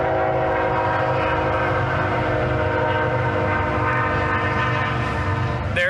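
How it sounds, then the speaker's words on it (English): A train rolls past on railroad tracks close by, a loud steady rumble with horn-like tones holding throughout, no voices over it. "I don't know if this train's going to get really loud or not"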